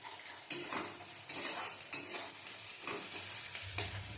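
Onions fry in a pan, a low steady sizzle punctuated by a handful of scraping strokes from a stirring spatula, fairly faint and with no voice.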